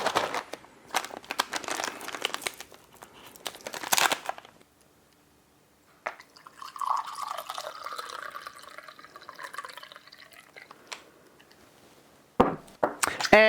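A folded-over MRE drink pouch filled with water, rattled and shaken in bursts with crinkling plastic and sloshing liquid, a quiet pause, then softer handling and a last burst of shaking.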